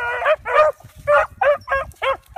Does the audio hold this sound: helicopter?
no